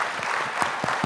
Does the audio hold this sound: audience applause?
yes